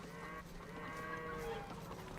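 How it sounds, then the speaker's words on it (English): Cattle in the Age of Empires II video game moo softly in a few drawn-out low calls, faint beneath a steady bed of game ambience and music. "These cows are throwing me off a little."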